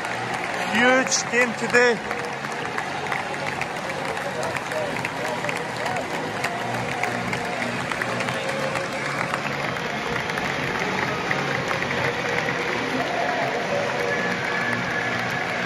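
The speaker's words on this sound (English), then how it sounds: "And here come the teams." A packed football stadium crowd at a United versus Hibs match applauds and roars as the teams walk out, a continuous wash of clapping and cheering with someone talking over it.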